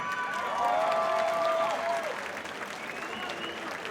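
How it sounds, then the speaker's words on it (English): Crowd applause and light cheering for two fighters at an MTFL combat sports event, a loud dense burst of clapping that holds steady then eases slightly, with a voice and sustained tone briefly over it. "A round of applause, come on."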